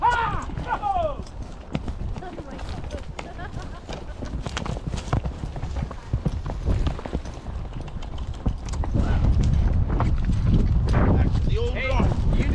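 Hooves of a wild horse on its first outing in the desert, before it has been ridden, clop steadily and close over a long stretch, mixed with frequent shouting and talk from handlers.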